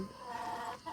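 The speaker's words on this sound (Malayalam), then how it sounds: "ഇതൊക്കെ അമ്മയുടെ സാമ്രാജ്യമാണ് കേട്ടോ, അമ്മയുടെ കോഴികൾ" Chickens cluck in a short, fairly faint burst with a soft murmur of low background noise.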